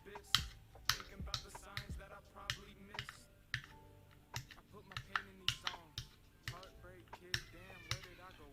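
Sharp, scattered clicks and light pops as holes are poked into foil stretched over a hookah bowl, irregular and fairly close, with music playing underneath.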